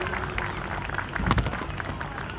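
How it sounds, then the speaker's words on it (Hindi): An audience at a stage event applauds to welcome a guest, a dense, moderately loud clapping that stays steady and swells slightly near the middle. "जोरदार ताली बजाकर एक बार इनका स्वागत कीजिए"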